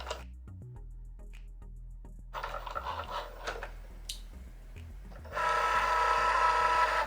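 A Cricut Joy cutting machine works through material with a steady low motor hum and intermittent mechanical whirring and ticking, ending in a louder, sustained buzzing run close by.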